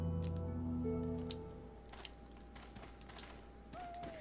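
Soft, faint typewriter-like clicks and taps from a save point in the video game Resident Evil 4 HD, sparse and irregular over a low background tone fading out.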